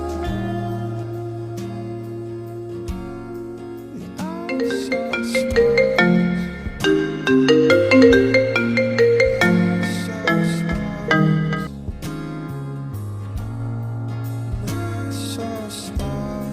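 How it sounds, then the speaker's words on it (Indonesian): A phone call rings out as a melodic ringtone, its tune looping steadily and clearly for many seconds with no talking over it. "Coba gua telepon Dion dulu"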